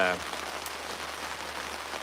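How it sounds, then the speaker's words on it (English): Rain falls steadily outdoors at a fishing spot, a dense continuous patter on surfaces, close and even, with a brief tone at the start and no talk. "when it gets too rainy like this, you start dealing with mud and all the rest of it"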